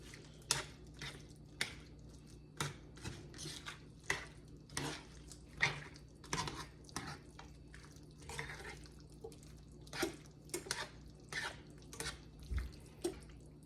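Beef stew filling is stirred in a pot with slow, regular strokes, each one a soft wet squish or knock against the pot, spaced about half a second apart. The sound is fairly quiet and no one talks.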